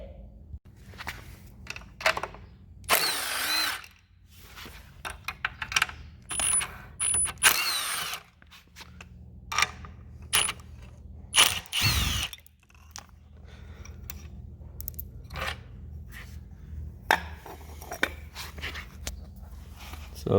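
Tools working to remove a throttle body, close bursts of ratcheting and power-tool whirring separated by quiet gaps, along with clinks and handling noises, no talking.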